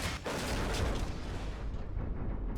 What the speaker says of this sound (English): Let me test that out by firing the rocket